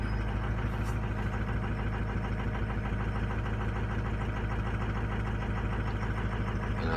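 An engine idles steadily after a cold start at 40 degrees, with a couple of cylinders running slightly low: a low, even, rhythmic rumble that stays constant throughout, moderately quiet and with no talk.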